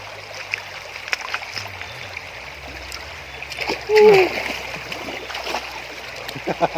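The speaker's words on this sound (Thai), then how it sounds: "น้ำมันไหลแรงมาก" Water splashes and flows strongly at a garden stream, a steady rushing wash with scattered splatters near and fairly faint, while people talk briefly over it.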